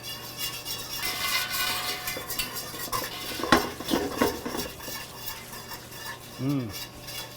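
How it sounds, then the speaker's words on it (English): A whisk stirs flour into melted butter for a béchamel roux, scraping and clinking softly against a metal pan in a steady back-and-forth rhythm, faint and close, with a brief sizzle. "as you're whisking, make sure you're getting all the clumps out of the flour"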